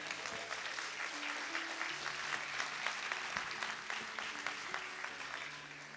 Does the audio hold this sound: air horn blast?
no